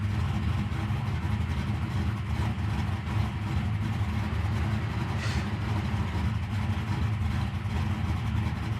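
A 1968 Chevy Nova's engine idles steadily at around 1,000 RPM, a continuous low rumble heard close up with no speech over it.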